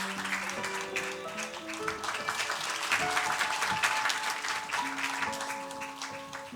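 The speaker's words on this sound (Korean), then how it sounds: "뜨거운 박수로 축하해 주십시오." A church congregation at a Sunday worship service applauds warmly and steadily, the sustained clapping blended with organ or keyboard chords playing underneath.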